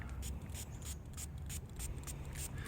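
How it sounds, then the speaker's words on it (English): Clarifying spray from a Turtle Wax headlight lens restorer kit hisses from an aerosol in a run of short, regular bursts onto a headlight lens, close and steady with no talking. "We got to spray it first. Okay, so spray with the clarifying."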